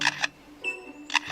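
A wild forest bird mimics a camera shutter, giving two crisp double clicks separated by a brief, thin electronic-sounding tone, close and clear with no talking.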